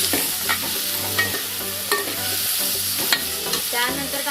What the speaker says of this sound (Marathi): आता आपण टोमॅटो टाकूया। छानपैकी परतवून घेऊयात आपण मिश्रण।